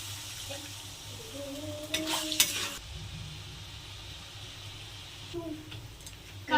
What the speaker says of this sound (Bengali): ভালোভাবে কষানো হয়ে গেছে, এবার জল দিয়ে দেবো।